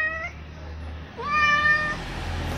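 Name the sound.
cat meowing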